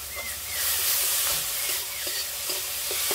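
Tomato, green chillies and ginger paste frying with salt and turmeric in a pan for a tilapia fish curry, a loud steady hissing sizzle with occasional soft stirring scrapes, close and alone.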